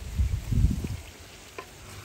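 Food frying in oil in a pan, bubbling and sizzling crackles up close with stirring, louder at first and then settling to a quieter simmer, with no talk.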